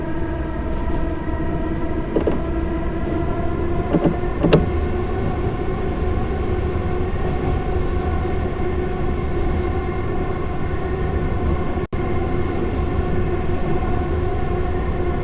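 An electric commuter train in a JR East Chuo Rapid Line driving game runs with a steady motor hum and rolling drone, with a few faint clicks and a brief tone partway through.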